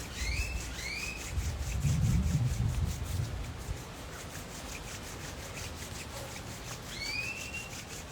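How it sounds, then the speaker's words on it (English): Palms rub together in a steady, close friction swish that builds to a louder stretch and then continues more softly, with no talking over it. "We're gonna do rub your hands together."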